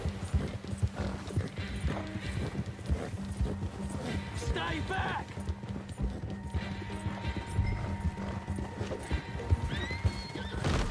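A horse whinnies and gallops with steady clip-clop hoofbeats amid Red Dead Redemption 2 game sound effects, while someone speaks German over it.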